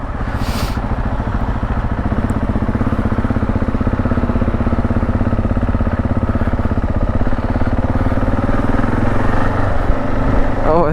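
A vehicle engine runs steadily at close range, its low pulsing drone continuous for the whole stretch with slight shifts in pitch around gear changes.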